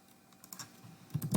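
Quick keystrokes on a computer keyboard patter close by as a prompt is entered, starting faint and growing to a brief burst of louder clicks, with no voices.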